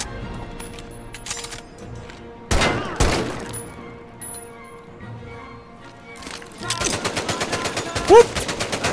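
Gunfire crackles in the Medal of Honor: Above & Beyond VR video game, with isolated loud shots early on and a dense rattling burst of automatic fire near the end, mixed with other game sounds.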